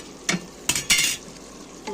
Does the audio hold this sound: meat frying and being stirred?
yes